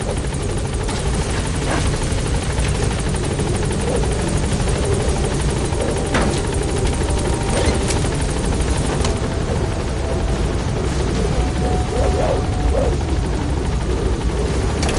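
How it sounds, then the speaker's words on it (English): Rotor thumping of the Pequod transport helicopter in Metal Gear Solid V arriving over a landing zone, a loud steady drone running the whole time with no voices. "This is Pequod. On station at LZ."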